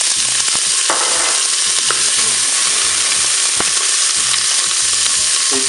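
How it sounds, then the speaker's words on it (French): Onions hit hot oil in a Cookeo multicooker, giving a loud, steady sizzle with occasional crackles and stirring clatter, no talk. "l'huile est chaude, je vais pouvoir mettre donc les oignons"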